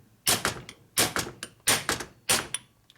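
A flat chisel is hammered against the transmission lock tab of a 1942 Harley-Davidson 45ci WLA flathead. Four sharp metallic knocks come at a steady beat, each followed by a smaller rebound tap, close and loud with no talking.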